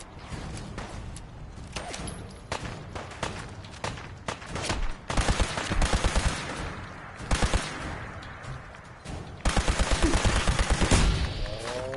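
Rapid bursts of gunfire in Fallout 4, loud and close, with volleys repeating in dense clusters and heavier barrages toward the end.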